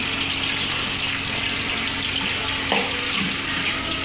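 Ground pork cooking in a pan, a continuous dense sizzle and hiss holding steady throughout with no talk, close and fairly loud, with one brief small clatter partway through.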